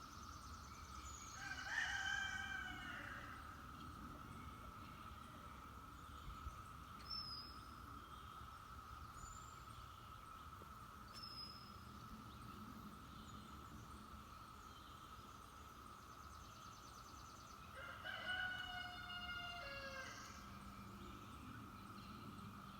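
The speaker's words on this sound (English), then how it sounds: "you could hear the roosters in the background" Roosters crow faintly in the distance at a few separate moments, over a constant insect drone and quiet outdoor background.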